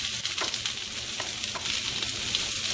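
Peppers and onions sautéing in a pan give a steady, close sizzle with a few faint stirring scrapes and no talking.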